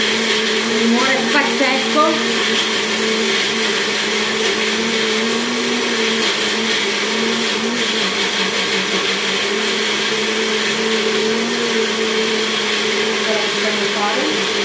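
Electric mini chopper whirring continuously as it blends zucchini pesto with walnuts, a loud steady motor drone with slight pitch shifts and faint chopping clatter, lasting throughout.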